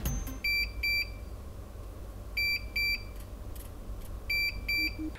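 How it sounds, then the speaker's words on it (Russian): An INKSYSTEM 6-in-1 heat press gives its temperature and timer alerts as three groups of paired, high electronic beeps. They are evenly spaced, clear and fairly loud over a low background hum. "Есть звуковая индикация температуры и оповещение таймера."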